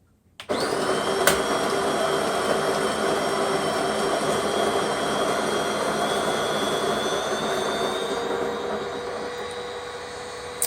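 A DeLonghi espresso machine grinding coffee beans, a loud, steady mechanical whir that kicks in abruptly and runs unbroken for about ten seconds, close by, with no talking.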